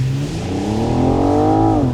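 A BMW M440i xDrive Coupé launching hard, its engine note climbing steadily in a loud, strong rising drone heard close from inside the car, with no talking.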